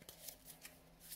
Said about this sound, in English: overhand shuffling